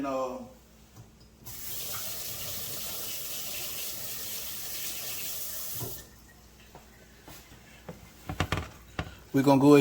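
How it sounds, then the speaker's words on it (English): Hot milk pours in a steady, close stream into cheddar and broccoli soup for several seconds, then stops, followed by faint kitchen clatter and someone talking. "pour that hot milk over in here"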